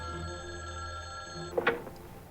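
Faint telephone bell ringing at a studio office, a thin sustained ring in the background that cuts off partway through, followed by a couple of soft clicks or knocks.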